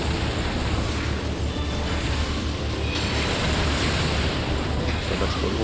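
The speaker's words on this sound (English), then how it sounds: "First explosion's coming up." Continuous rumbling explosion effects from a Final Fantasy XIV Endwalker raid fight, a dense, steady roar filling the whole stretch with low booming body and hissy crackle throughout, no voices.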